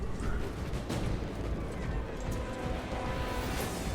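Frag grenade blasts and combat chaos in Space Marine 2 roll on without pause, a dense, rumbling wash of thuds and cracks at moderate loudness with no clear gaps.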